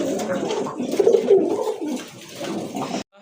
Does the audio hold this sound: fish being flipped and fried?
no